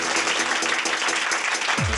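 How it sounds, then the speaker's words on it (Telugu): A studio audience claps for the Kakinada Kaja team at a TV game round, a dense burst of applause lasting a couple of seconds. "కాకినాడ కాజా టీం కోసం గట్టిగా చప్పట్లు కొట్టండి"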